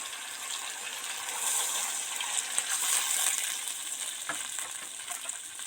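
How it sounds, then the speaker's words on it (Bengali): Water is poured into a pan of shol fish curry with potatoes and spices frying in oil, raising a loud, steady hiss and sizzle that swells and then holds close by, with no talking. "এবার জল দিয়ে দেবো"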